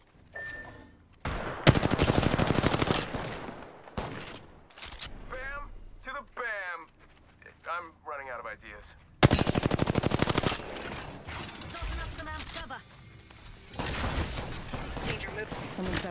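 Automatic weapons fire in Apex Legends in loud rapid bursts, with a couple of long sustained volleys separated by quieter gaps. Game voice lines and other effects sit between the bursts.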